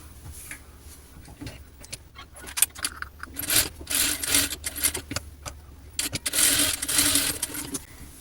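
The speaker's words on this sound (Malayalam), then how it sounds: "അപ്പം ഞാനതൊന്ന് സ്റ്റിച്ച് ചെയ്തെടുക്കുന്നുണ്ട്" A sewing machine stitching the lining of a silk skirt, with a rough, rhythmic mechanical whirring and rattling that swells and fades in uneven runs, moderately close.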